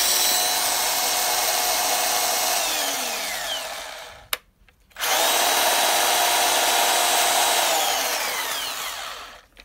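A Milwaukee cordless rotary hammer drilling in drill-only mode, its loud steady motor whine running alone, briefly cutting out for a moment midway, then spinning back up.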